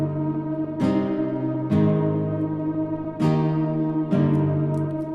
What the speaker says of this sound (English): Just a nice little background hum ambience.